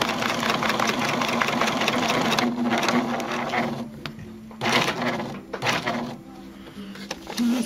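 Pfaff 1473CD sewing machine stitching thick fabric, a steady mechanical whirring hum that runs continuously, slows and pauses briefly, then resumes in short bursts, close and fairly loud.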